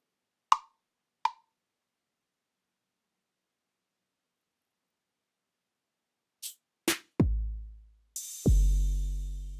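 Drum machine kit hits sound one at a time with long silences between them: two short clicks, then a few sharper hits, ending with deeper booming drum tones and a noisy crash-like hit that rings out.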